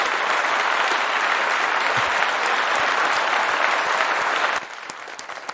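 Sustained applause from an audience at a university robotics workshop on retail and manufacturing, a dense, steady wash of clapping at even loudness that drops to a quieter, thinner level near the end.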